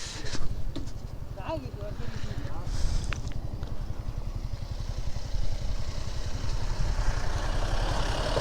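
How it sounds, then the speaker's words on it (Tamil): A motorbike-like vehicle rumbles steadily close by on a road near a viewpoint in Idukki, its engine throbbing continuously throughout, with a voice briefly audible over it. "வண்டி வருது."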